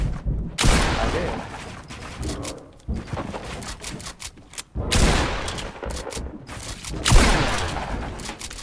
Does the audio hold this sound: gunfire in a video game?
yes